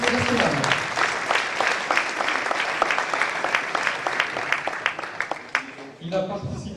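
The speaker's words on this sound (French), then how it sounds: "Merci d'applaudir Ioannis Skouropoulos" An audience applauds table tennis player Ioannis Skouropoulos as he is introduced at a team match, with sustained, dense clapping and a voice talking over it.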